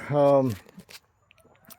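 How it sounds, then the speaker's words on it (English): Chickens in a wooden chicken coop holding about nine birds, giving a loud, drawn-out harmonic call up close, followed by a few softer, scattered clucks and shuffling noises. "Thus far, I got 9 chickens in here"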